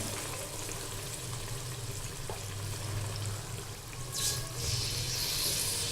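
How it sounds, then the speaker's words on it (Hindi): Gulgule batter dropped spoon by spoon into hot oil, giving a steady dense sizzle and crackle close up, swelling slightly toward the end, with no talking. "उसके बाद आप चम्मच की मदद से छोटे छोटे गुलगुले इसमें डालते जाएं।"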